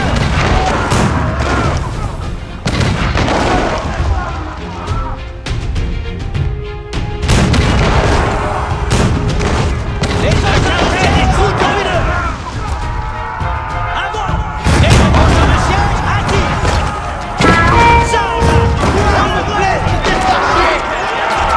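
Siege engines fire in the video game Age of Empires 4 during the 1450 Battle of Formigny in the Hundred Years War, with repeated heavy booms and impacts over continuous battle din, and a voice speaking French throughout.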